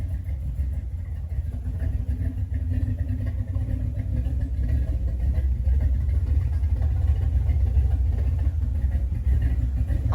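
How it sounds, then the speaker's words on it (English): A Chevy 5.3 V8 with a budget cam, not yet tuned, idles with a steady low rumble that holds continuously at close range, with no talk over it. "The engine's super quiet, lifters, everything sounds really good, has good oil pressure."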